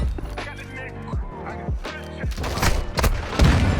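Close, loud shotgun blasts from Modern Warfare 2 multiplayer ring out in quick bursts, mixed with game effects and a player's excited talk over the action.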